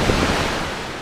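Flood water rushes through the five opened floodgates of China's largest reservoir in Zhejiang, a loud, continuous broadband roar of churning water that fills the whole brief moment without a break.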